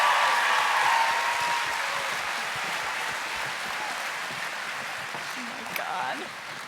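Audience applause at a business incubator pitch night, loud clapping from the room that gradually thins and fades while a few faint voices and a whistle-like sound surface near the end.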